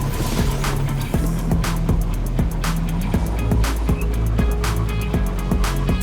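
Sparrow hover bike in Destiny 2 accelerating during a race on the Europa loop, a steady loud engine drone with rhythmic pulsing and repeated whooshing bursts throughout.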